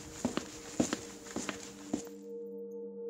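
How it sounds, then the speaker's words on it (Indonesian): Several footsteps fall in an uneven rhythm over about two seconds, close and moderately loud, then stop, leaving a steady low hum. "Seperti mendengar derap langkah kaki dan lain-lainnya."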